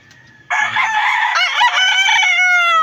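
A Texas breed rooster crows loudly and close by, one long drawn-out crow that starts abruptly and holds its harmonic call for over two seconds.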